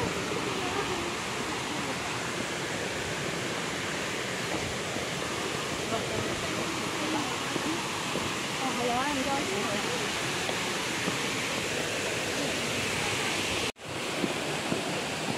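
Continuous broadband rushing of flowing water fills the whole clip, loud and steady, with a brief dropout near the end.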